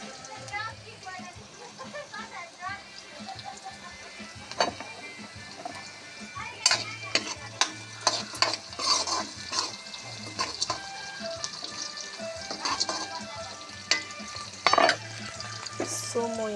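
Onions fry and get stirred in a pan during a village chicken recipe in Sikkim, with scraping stirs and sizzling over a steady background hum. Occasional sharp clinks of utensil on pan stand out. Faint voices may be present.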